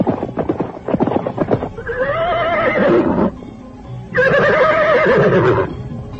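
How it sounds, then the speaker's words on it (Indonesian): Horses neigh loudly in two long whinnies after a run of quick hoofbeats, a radio drama sound effect for two ridden horses speeding away from a palace gate. "Dua ekor kuda yang ditunggangi Rakuti dan Rasemi, membawa kuda Parasuta, segera melesat meninggalkan pintu gapura Istana Kaputren"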